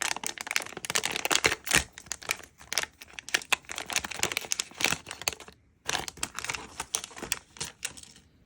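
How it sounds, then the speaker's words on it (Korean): Crinkly packaging of an ET electronics board for a DIY automatic pet feeder is torn open and crumpled. The rustling tearing bursts come close and fairly loud, broken by a brief pause partway through. "이티보드를 한번 뜯어볼게요."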